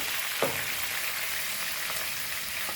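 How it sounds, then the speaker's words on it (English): Ingredients for dal tadka sizzle steadily in a pan, a continuous close frying hiss with a soft tap near the start and a click at the end, no voices. "So let's fry this."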